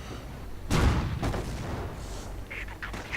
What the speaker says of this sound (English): Mortar after getting ready.